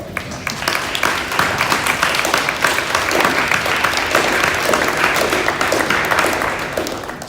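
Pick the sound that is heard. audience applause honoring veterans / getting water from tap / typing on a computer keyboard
audience applause honoring veterans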